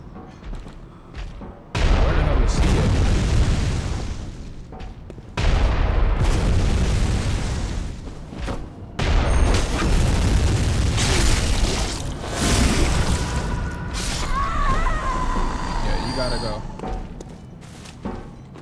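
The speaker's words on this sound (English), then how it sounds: "I gotta get rid of whoever's shooting that fucking cannon." In the video game Bloodborne, Old Hunters DLC, cannon fire lands as several heavy booms, each followed by a long rumbling roar, loud and close, with scattered game noises mixed in.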